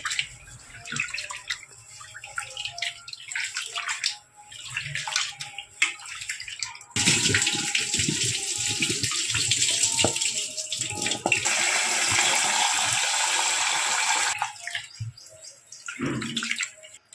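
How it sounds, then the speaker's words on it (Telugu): Water sloshing and splashing as basmati rice is swirled and rinsed, growing louder and steadier midway, with faint bird chirps in the background. "ఇప్పుడు తీసుకున్న బియ్యాన్ని రెండు మూడు సార్లు కడుక్కోవాలి"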